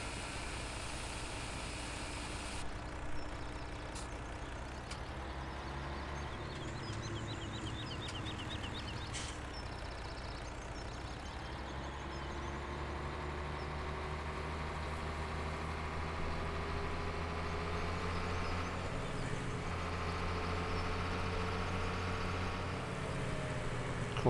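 A Tatra Phoenix truck engine in a driving simulation game drones steadily at idle and low revs, a continuous deep rumble with gentle rises in pitch as it pulls away, no voices over it.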